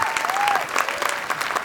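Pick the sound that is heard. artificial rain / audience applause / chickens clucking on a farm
audience applause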